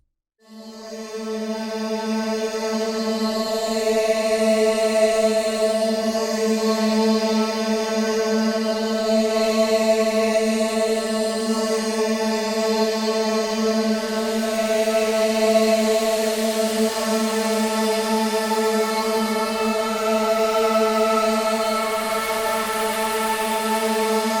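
A colorful synth drone from the Vaporolo preset in the Pigments Shamanic Voices bank, with nature-like textures. It swells in within the first second and then holds a steady, sustained chord with a shimmering airy top for over twenty seconds.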